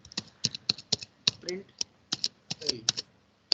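Fingers type code on a computer keyboard, a close run of irregular crisp key clicks and taps, with someone speaking Hindi briefly between the keystrokes.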